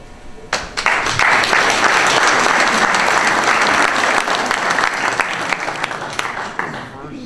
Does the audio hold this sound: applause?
yes